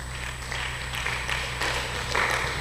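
Audience applause for the judges at an inter-school competition between Kings & Queens Academy and Treasure Trove Schools: steady, fairly quiet clapping in a hall, swelling a little toward the end over a low electrical hum.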